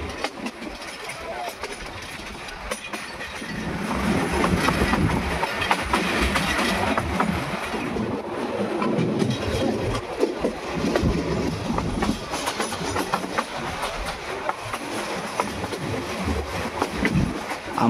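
A train running through a tea garden, a continuous rumbling roll with faint rhythmic clatter from the cars, steady and fairly near, with voices talking over it.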